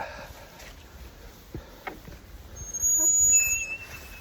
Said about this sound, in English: And just listen to the bird song.